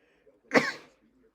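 One sharp, explosive human sneeze, close and fairly loud, bursts out and trails off quickly against a quiet background.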